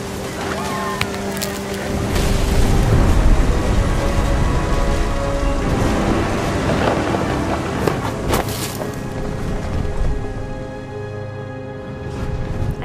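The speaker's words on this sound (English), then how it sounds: "The thunder sounded much too close and full of angry power" Steady rain pours in the video game What Remains of Edith Finch, with deep rumbles of thunder rolling underneath and faint sustained music tones threaded through, the downpour loud and continuous throughout.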